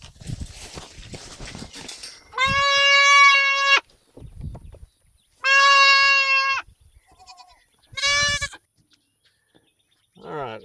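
A goat bleats loudly in long drawn-out cries while being caught and held, three calls close by with brief human talk in the gaps.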